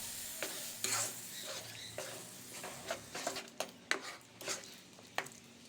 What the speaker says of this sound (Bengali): দুধ দিয়ে কিন্তু খুব ভালো করে নেড়ে নিতে হবে যাতে সুজিটা গোটা বেঁধে না যায়।